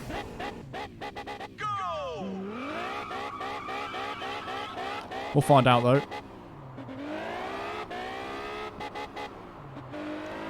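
A Group B car in Test Drive Unlimited accelerates through repeated gear changes, its engine note rising in pitch and dropping at each shift, with a brief loud burst midway and a voice speaking over it.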